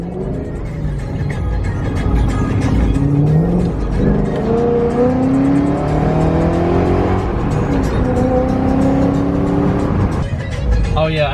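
A BMW M5 in sport mode with traction control off accelerates hard, its engine note climbing steadily through rising pitch sweeps, loud and continuous with some tire noise and voices talking over it.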